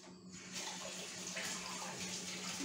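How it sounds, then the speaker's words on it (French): Hands are rinsed under a running kitchen tap while tartiflette with lardons is being prepared, giving a steady, soft rush of flowing water with no voices. "je vais me rincer les mains en vitesse"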